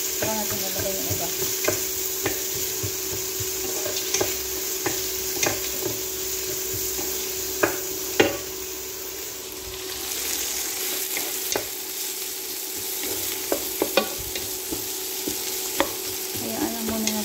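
Onions frying in a pan, a constant close sizzle with repeated scraping strokes of a spoon stirring through them, no talking.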